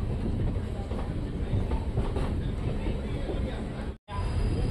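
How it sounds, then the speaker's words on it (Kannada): DEMU train pulling out of Tungabhadra Dam railway station: a continuous, close rumble with clickety-clack wheel rhythm, broken by one short dropout near the end. "ತುಂಗಭದ್ರಾ ಡ್ಯಾಮ್ ರೈಲ್ವೆ ಸ್ಟೇಷನಿಂದ ನಮ್ಮ ಟ್ರೈನ್ ಹೊರಟಿದೆ."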